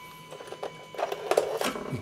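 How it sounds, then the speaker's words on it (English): Wax is scraped away inside a Nordmende Transita TS De Luxe radio: quiet, irregular scratching strokes that grow a little busier toward the end. "I need to scrape that off."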